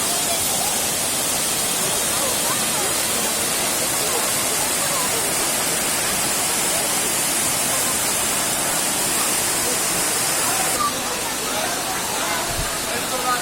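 Elephant Falls in Shillong pours in a constant, dense roar of rushing water, loud and close, steady throughout with no pauses or voices rising above it.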